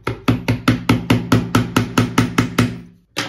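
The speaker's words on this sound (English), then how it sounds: "we will hit it a little bit with a hammer, but very gently" A hammer gently tapping a screwdriver lodged in a keyless drill chuck to free a stuck bit: about a dozen sharp, evenly spaced metallic taps in quick succession, close and loud, with a short pause before one last tap.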